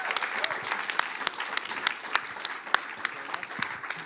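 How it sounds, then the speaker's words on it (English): Loud applause from a conference audience at a startup pitch event, steady dense clapping with a few sharper individual claps standing out, continuing for several seconds with no talk. "Big round of applause."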